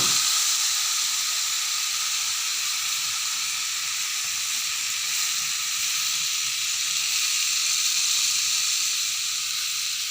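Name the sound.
spice-washing water poured into hot pan, sizzling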